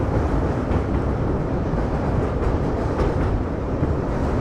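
Nilanchal Express passes on the opposite track, a loud, continuous, close rushing rumble of rail wheels and carriages that fills the whole stretch without any break.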